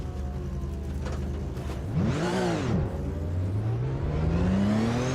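Race car engines in the Automobilista 2 racing game drone steadily while another car sweeps past with a rising then falling pitch, followed by the engine climbing again as it accelerates, with no talking.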